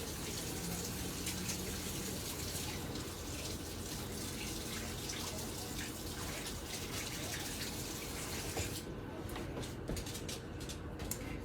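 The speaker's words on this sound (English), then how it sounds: "Let me get a little bit of detergent here and wash my hands." Tap water runs steadily into a kitchen sink while hands are washed with detergent, a continuous close splashing stream that lasts throughout with no talk over it.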